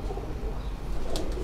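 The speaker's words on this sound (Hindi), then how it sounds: "तो ये जो कबूतर है दोस्तों, ये टैडी ब्रीड का ये कबूतर आपको दिखाया" A teddy breed pigeon coos softly on a rooftop, low muffled murmuring with a faint brief chirp near the end.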